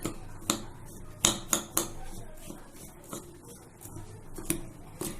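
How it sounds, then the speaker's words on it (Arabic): A utensil stirs coconut finger dough ingredients together in a bowl, with sharp clinking strikes against the bowl at an uneven pace and quieter scraping in between, close and without talk. "هقلب كل المكونات دي كده مع بعض"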